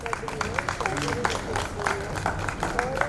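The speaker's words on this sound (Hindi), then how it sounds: "जोरदार तालियों से स्वागत।" An audience at a health and vastu seminar in a Kolkata hall claps to welcome someone to the stage, a steady patter of moderate applause with a voice speaking over it.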